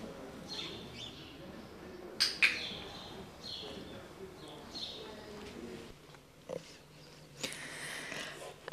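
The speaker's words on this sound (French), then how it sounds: "je ne sais pas si vous avez entendu un petit clic. En fait, ce clic, c'est un clicker." A horse-training clicker snaps twice in quick succession, sharp and close, while a horse is given eye drops; faint bird chirps and soft ambient noise surround the clicks.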